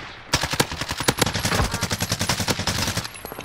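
Rapid video-game gunfire rattles out in a close, sharp automatic burst, a quick string of evenly spaced shots lasting about three seconds and then stopping.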